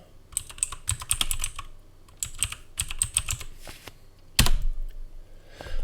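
Someone types a password on a computer keyboard with a slightly faulty keyboard, giving bursts of rapid key clicks with short pauses and one louder clunk near the end, close and dry with no talk.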